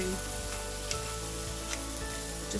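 Burger patties stuffed with bacon and cheddar sizzling in a pan on one side, a steady close frying hiss with a few small pops and no talking.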